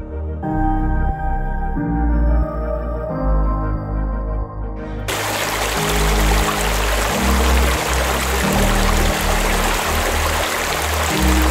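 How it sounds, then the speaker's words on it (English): Water from a small waterfall running across a road in New Zealand's South Island, a loud, steady rushing wash that swells in suddenly partway through over a low rumbling hum and continues unbroken. "that's a small waterfall right in the middle of the road"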